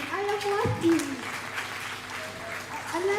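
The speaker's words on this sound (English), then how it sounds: "So continue clapping and close up energy and woo!" Audience clapping at an International Missing Children's Day event, moderately loud and continuous, with a voice calling out and talking over it at times.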